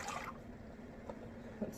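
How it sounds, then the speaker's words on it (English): Water poured from a measuring cup into a bowl while making stuffed pepper soup, a faint, brief splash and trickle that fades quickly in a quiet kitchen. "I'll pour this in the bowl."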